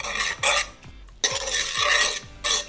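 Gwamegi oil pasta tossed in a pan, giving several quick scraping stirs and swishes of noodles against metal in bursts, close and fairly loud with no talk.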